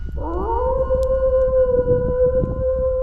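A dog howls at night in a cemetery, one long rising wail that holds steady for several seconds, loud and close over low background rumble.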